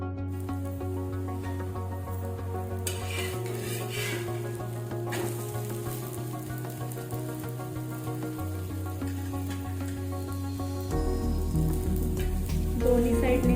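A potato spinach paratha roasts on a pan with a soft, steady sizzle that continues under background music and grows a little louder near the end.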